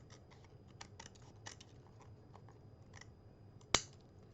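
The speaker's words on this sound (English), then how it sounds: "use our scissors, and trim" Scissors trim paper in a series of light, crisp snips spread across a quiet room, ending with one sharper, louder cut near the close.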